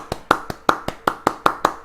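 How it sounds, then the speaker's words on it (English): A single pair of hands clapping in a slow, even round of applause, about nine sharp claps close by, with no voices. "Let me give a round of applause to those that didn't pull their hair out hearing all this foolishness"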